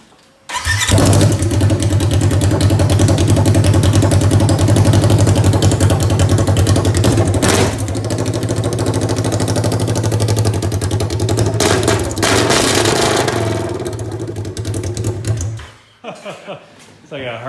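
Polaris RZR side-by-side with an MBRP straight-pipe exhaust fires up and holds a loud, raw, steady idle for about fifteen seconds, then cuts off, leaving a few short bursts of voices nearby.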